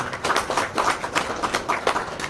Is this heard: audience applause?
yes